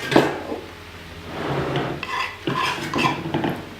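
Chopped garlic being stirred through wilted spinach in a pan, with a spoon scraping and clinking against the metal in uneven strokes, close and fairly loud, a few sharper knocks standing out.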